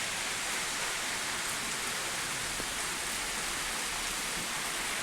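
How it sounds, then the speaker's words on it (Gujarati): Heavy rain pours steadily over a village and its cow shed, a dense, even hiss of drops on surfaces that runs on without a break and with no voices. "જબરદસ્ત વરસાદ આવી ગયો."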